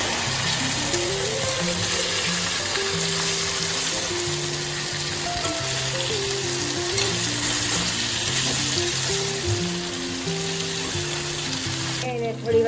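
Okra sizzling and frying in a pan with red chili powder and asafoetida for a Kathiyawadi-style dish, a loud steady crackle throughout, with faint background music tones beneath and a brief clatter at the very end.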